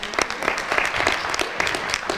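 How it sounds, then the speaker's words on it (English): Audience applause at a National Board Certified Teachers pinning ceremony: steady, dense hand-clapping from a crowd, moderately loud and continuous. "Let's give them a round of applause."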